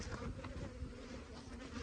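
Honey bees buzz at the entrance of a hive in a soft, continuous hum of many wings, quiet and steady, with no voices.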